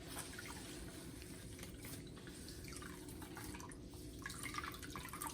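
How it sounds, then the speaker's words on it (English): Lilac tea dripping and trickling from a squeezed towel into a vessel, a steady soft patter of liquid under a constant background hiss. "Squeeze all that flavor and aroma right out of that towel."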